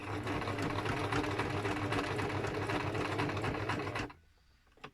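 Sewing machine stitching fabric during a sewing project, a steady loud mechanical whir running continuously for about four seconds before stopping abruptly, leaving near silence.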